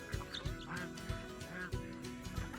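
Farm ducks quacking in a series of short, bright calls at moderate distance, with several birds calling back and forth in an outdoor farmyard setting.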